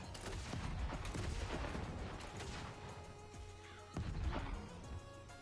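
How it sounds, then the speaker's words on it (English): Mortar fire in the video game Atomic Heart comes as repeated booming blasts and crashing impacts over a busy battle soundscape, fairly loud and layered, with no talking. "Can I not get mortared, please?"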